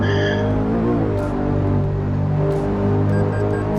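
Ferrari sports car driving in Euro Truck Simulator 2, a steady loud engine drone with shifting tonal harmonics, brief tire-squeal-like swells, continuous throughout without speech.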